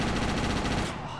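Rapid burst of gunfire from the handheld game GTA Chinatown Wars, a dense, loud volley filling about a second before trailing off.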